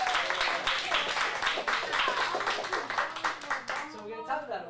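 A round of applause from a room of kids at an acting lesson, loud, dense clapping that fades to scattered claps at the end, with voices mixed in.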